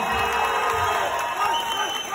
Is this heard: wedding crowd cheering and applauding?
yes